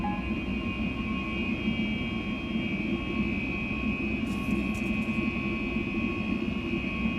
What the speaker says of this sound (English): Wow, it's so loud, this plane